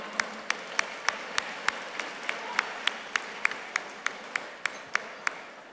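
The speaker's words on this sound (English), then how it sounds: "Can we have a big round of applause for them?" Someone at an awards dinner claps alone at a regular, measured pace, about twenty sharp claps spread evenly across the stretch and standing out clearly over a quiet room hum.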